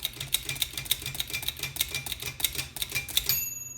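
Rapid mechanical keystrokes from a manual typewriter, struck in an uneven, fairly steady rhythm of sharp clacks close up, ending with a brief ringing tone near the end.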